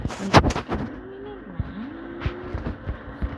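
Cannon fire in the Roblox video game sounds as several sharp, booming blasts spread across a few seconds, the first cluster loudest, with a tonal whine sliding underneath and quieter thuds after.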